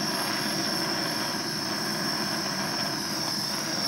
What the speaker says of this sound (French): avec le chalumeau, vous allez chauffer, en évitant de chauffer le vilebrequin, vous allez chauffer cette partie-ci